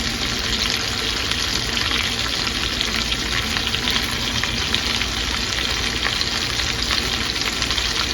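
Cabbage fries in a pan with smoked sausage and black pepper, giving a loud, steady sizzle with soft crackles and stirring scrapes running throughout.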